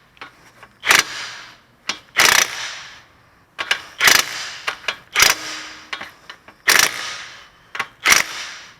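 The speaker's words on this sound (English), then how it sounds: "Tighten until your hole for the cotter pin matches up with the bolt." A ratchet tightens the 19mm castle nut on a GMC front wheel bearing, a series of sharp, close metallic bursts spaced about a second apart, each with a short ringing tail.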